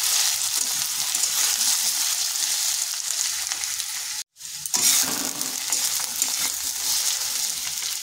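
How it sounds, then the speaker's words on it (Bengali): Taro pieces and potatoes sizzling in hot oil as they are stirred in a pan, a steady loud frying hiss broken by a brief silent gap midway. "কচুটাকে এইভাবে একটু নেড়ে চেড়ে ভেজে নিচ্ছি আলুর সাথে।"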